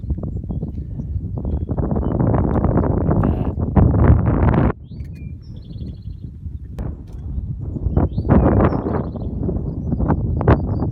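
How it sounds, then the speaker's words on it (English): Strong mountain wind buffets an unshielded microphone near Mount Rogers, Virginia, in loud, rumbling gusts, with a sudden drop partway through before the roaring picks up again. "Very windy. I don't have the windscreen on, so you may not be able to hear me at all"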